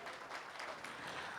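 Dense applause from a radio show's live audience celebrating the program's 25th anniversary on air, steady and continuous throughout, with no voices over it.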